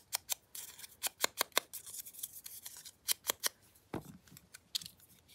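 Scissors snip and trim at close range in short bursts of sharp, crisp cuts with brief pauses between them, heard alone without talking.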